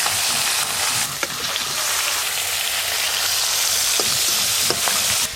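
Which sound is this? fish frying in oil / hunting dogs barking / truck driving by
fish frying in oil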